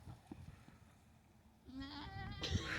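Sheep bleating on a farm where piglets meet the flock, a couple of close, wavering calls in the last second or so after quieter rustling and shuffling.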